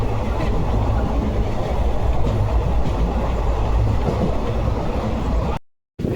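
Steady, loud rumble and rattle inside a moving passenger train, a continuous dense roar with faint rhythmic clatter, cutting off abruptly near the end.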